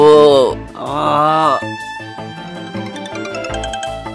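A mobile phone rings with an incoming call, playing a melodic ringtone of steady electronic notes right after a woman's anguished speech.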